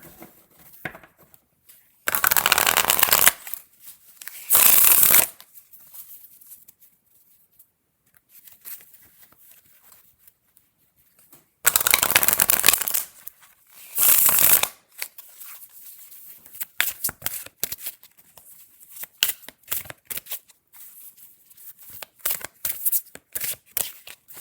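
Tarot cards from the Seed and Sickle deck being shuffled close up, two pairs of loud riffling bursts separated by quiet, followed by softer card handling and taps.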